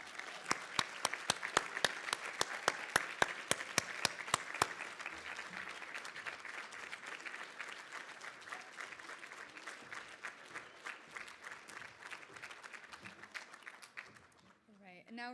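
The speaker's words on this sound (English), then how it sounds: "Give them a round of applause." Audience applause at an annual leadership recognition banquet, opening with several sharp, loud individual claps before settling into steady, sustained clapping from a room full of people that slowly fades toward the end.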